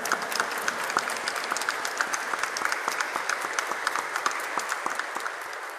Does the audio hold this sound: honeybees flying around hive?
no